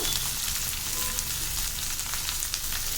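Cashew nuts frying in hot oil for samba rava upma, a steady close, crackling sizzle with fine popping throughout and no pauses.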